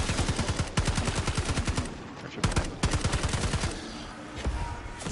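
Rapid automatic gunfire in Black Ops 6 Zombies, loud bursts of evenly spaced shots in quick rhythm with brief pauses between volleys, close and dominant in the mix.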